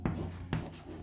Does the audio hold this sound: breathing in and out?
no